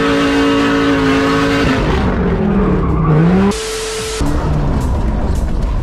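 Alfa Romeo engine revving hard under full throttle while driving on a loose surface, a loud, close, sustained roar whose pitch sags and climbs, cut by a brief gear change, with no talk.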